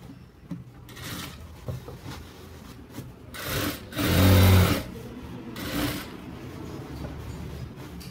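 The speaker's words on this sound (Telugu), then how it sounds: "ఇప్పుడు స్ట్రైట్గా ఒక సిలై వేసుకుంటాం." A sewing machine runs a straight line of stitching to attach a zip on a dress, whirring in short start-stop bursts up close, with the loudest run midway and quieter handling noises between.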